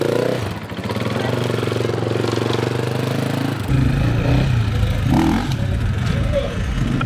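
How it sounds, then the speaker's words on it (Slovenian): A motorcycle engine revs loudly at an outdoor motoring event, with a sustained buzzing drone that jumps to a higher, rougher pitch midway, and people talk nearby. "Zadnji pa Marčič, zdaj bomo z motorjem izvajal"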